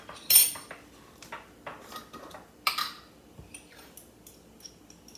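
A metal spoon clinks against a bowl while instant yeast is stirred into dough ingredients for homemade bagels, giving a few sharp, close taps and scrapes with quiet gaps between them.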